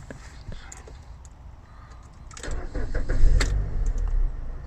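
A 2005 Mazda 6 with a cylinder 1 misfire idles nearby, its engine rumble swelling louder toward the end amid a few clicks and handling noises.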